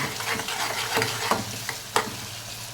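Onions, tomatoes, green chillies and curry leaves fry in a pan with a steady sizzle, while a spoon stirs them in scraping strokes and gives a few sharper clicks against the metal.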